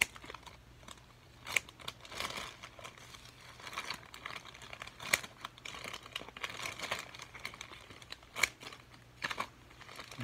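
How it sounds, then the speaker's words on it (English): Scissors snip and crunch through plastic Hot Wheels toy car packaging, with crinkling and rustling between irregular cuts, close and moderately loud, no talking. "I have to use my other hand to use my scissors"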